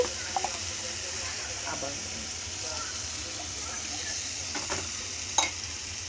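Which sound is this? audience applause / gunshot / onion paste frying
onion paste frying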